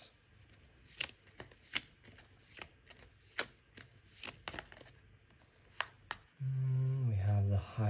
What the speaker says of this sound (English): Let's draw two more cards.